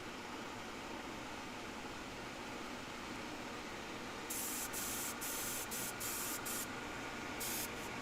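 An airbrush sprays black Vallejo paint in a steady, soft hiss, with a few short bursts of brighter, louder spray partway through as the trigger is pulled.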